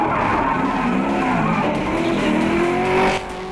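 A Mazda RX7 drift car at a D1NZ national drifting championship round in Mt Maunganui screams through a slide, its engine note rising under loud, continuous tire squeal that drops off sharply near the end.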